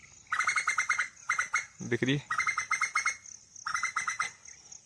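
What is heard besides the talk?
Asian koel bird calling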